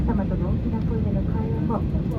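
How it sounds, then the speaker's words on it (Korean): Cabin of an ANA Airbus A320neo pushing back at Gimpo for an evening flight to Haneda, a loud low steady engine and airflow rumble under someone speaking. "비행기도 슬슬 푸시백을 하네요."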